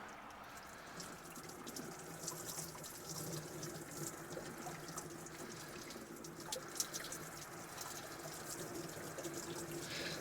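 Antifreeze flows steadily through a hose while a Mercruiser boat engine is winterized, a soft, even watery rush with faint trickles, low and constant throughout.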